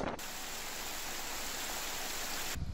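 Steady heavy rain with strong wind during Cyclone Nisarga in Raigad, where mud houses collapsed, a dense continuous wash of noise that stays loud and even for about two and a half seconds, then cuts off abruptly.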